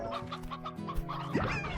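Chickens cluck in the Slime Rancher video game: a steady chorus of short bird calls over a continuous game background, ending with a brighter rising squawk.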